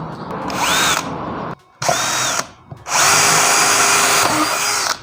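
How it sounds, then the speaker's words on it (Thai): A Makita 6270D cordless drill running on a DIY 12-volt, 4.0 Ah battery pack drills a hole at a diagonal angle. Its loud, whining motor runs in three bursts, separated by short pauses, with the pitch shifting as it bites. "นี่ผมก็จะเจาะตำแหน่งนี้นะครับ แล้วก็ทะแยงมุมมานะครับ"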